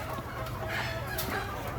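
Live chickens at a Lao agricultural market in Luang Namtha cluck and squawk amid a busy bustle of background crowd noise, with a brief sharper cry standing out.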